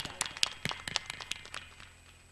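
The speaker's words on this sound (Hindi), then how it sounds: "एक बार जोरदार ताली, जोरदार।" A crowd at a Bhim Army rally in Shahjahanpur claps in scattered, uneven bursts that thin out and fade toward the end, fairly faint and without talk over it.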